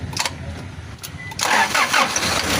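A Toyota Hiace van engine with poor acceleration, jerking and rough idling cranks briefly and catches, settling into a close, rumbling run.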